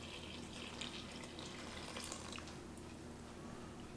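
Warm water poured into a mixing bowl for pizza dough, a steady, continuous splashing pour at close range that runs without pause, with no voices over it.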